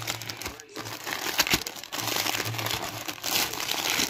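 A crinkly wrapper from an advent calendar rustles and crumples continuously in close, busy bursts as it is unpacked by hand, with no talking.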